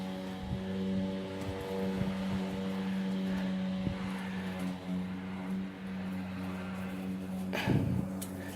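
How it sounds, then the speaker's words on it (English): A lawn mower cutting grass nearby drones steadily throughout at a moderate distance, a small motor holding a constant pitch with a brief rustle near the end. "My neighbor's cutting his grass."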